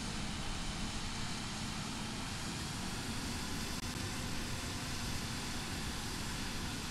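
A320neo jet engines roar in a broad, steady wash inside a flight simulator, constant and loud without clear change in level throughout.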